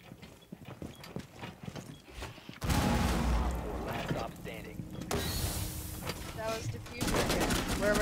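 Video game gunfire in a team shooter match, bursts of rapid shots and impacts that start abruptly and carry loud and close, with game sound effects mixed in and a player's voice faintly beneath.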